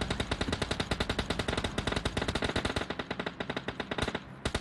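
Rapid automatic gunfire in PUBG Mobile Lite rattles in a fast, steady stream of loud, close shots that continue nearly unbroken, with a brief gap near the end.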